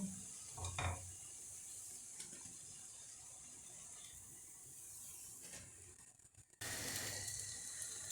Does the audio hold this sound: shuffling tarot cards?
no